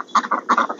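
A human voice imitates farm chickens with a run of clucking 'bawk' calls, rhythmic and close, in short repeated bursts.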